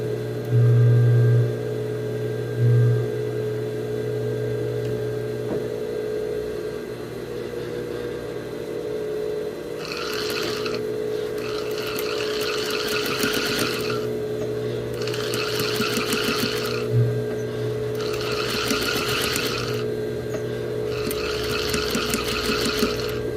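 A sewing machine stitches around an inward L-shaped corner. A low motor hum runs throughout, and from the middle on there are repeated bursts of fast needle stitching with brief stops between them, close and clear.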